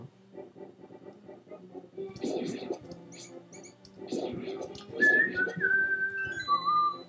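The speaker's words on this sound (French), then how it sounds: "j'ai dit que je devais pas siffler." Someone whistles a melody near the end, clear sliding notes over soft scratching and low murmuring during a playthrough of the SNES game A Link to the Past.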